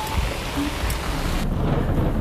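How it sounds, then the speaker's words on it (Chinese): Heavy rain falling outside, a steady dense hiss that stays loud and continuous throughout with no voices. "外面下挺大雨的。"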